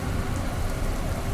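Heavy rain pours down in a dense, unbroken hiss, loud and close for the whole brief moment, with no voices.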